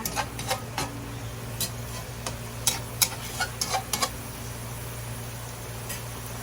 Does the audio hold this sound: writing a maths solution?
no